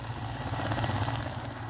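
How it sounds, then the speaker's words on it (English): Russian helicopter flying over floating Arctic sea ice near the North Pole, its rotor throbbing in a loud, continuous, close drone with no voices. "A Russian helicopter took us with a group of polar scientists."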